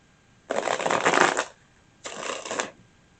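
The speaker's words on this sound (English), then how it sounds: "One more shuffle." Two bursts of tarot card shuffling, a long riffle then a shorter one after a brief pause, close and crisp with no talking.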